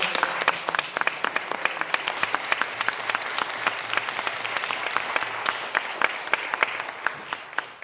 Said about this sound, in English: now is an opportunity where you can give these candidates a round of applause